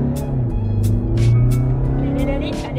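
A VW Tiguan II engine hums steadily from inside the cabin and swells gently as the car accelerates, with faint voice-like bursts over the drone.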